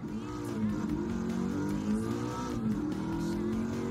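Race car engine in Gran Turismo 7 on PlayStation 5, a steady loud drone with rising and falling pitch as it revs through gears, continuous for the whole stretch with no talk.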